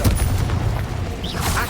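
A Confringo blasting spell in Hogwarts Legacy going off as a short, heavy booming blast with a crackling tail, loud and close.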